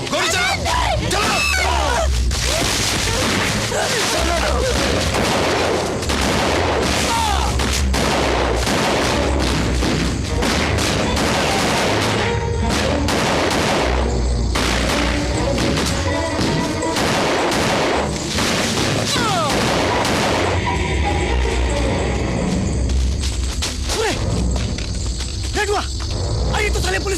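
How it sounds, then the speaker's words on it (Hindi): Dense, continuous gunfire and booming blasts in a Hindi film shootout between police and Naxalites, with shouting voices mixed in, loud and chaotic throughout. "गोली चला, चला।"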